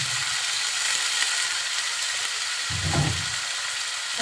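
Chopped onion, green chili and small diced new potatoes frying in hot oil for a hotel-style Bengali potato bhaji, a faint steady sizzle with a brief stirring scrape near the end.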